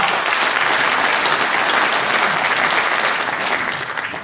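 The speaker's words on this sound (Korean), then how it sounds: "우리 다 같이 뜨거운 박수를 보내드리십시다" Loud, thick applause from delegates at a Democratic Party convention in Cheonan, a continuous wash of many hands clapping that stays full and then thins slightly toward the end.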